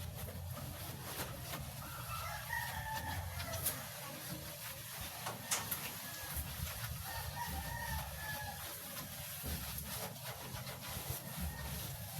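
Chickens cluck and a rooster crows amid steady dense background noise, the birds sounding moderately distant.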